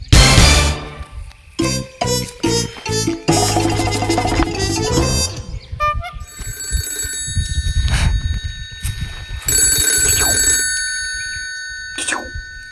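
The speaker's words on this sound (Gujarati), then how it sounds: "તું બાબુ ટોપીને ફોન કર ભાઈ" A telephone bell rings in repeated loud bursts, then shifts to a steady electronic ringtone with sharp tonal beeps, in a Gujarati comedy sketch scene.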